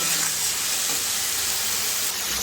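A tilapia curry sizzles and bubbles in a frying pan as it is stirred, a steady close hiss of frying with faint scraping underneath.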